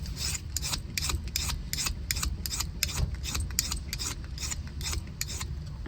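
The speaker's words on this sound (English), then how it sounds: "I'm going to take the file, I'm gonna file down here" A metal file rasps against an old Honda/Acura key blade in quick, regular strokes, close and clear, repeating about twice a second with no talking.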